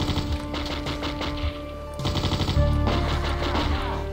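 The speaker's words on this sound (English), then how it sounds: "You know damn well I was shooting at him too." Rapid automatic gunfire from the Wolfenstein: Shadows of Destiny video game rattles in loud, dense bursts, pausing briefly and then resuming with heavier, sustained shooting.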